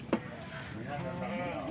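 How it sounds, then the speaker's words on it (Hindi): A Cheena goat, dark brown and black, at a busy Lahore livestock market before Qurbani gives one short, loud bleat near the start, followed by steady crowd murmur and distant voices. "ये चीना बकरा देखें,"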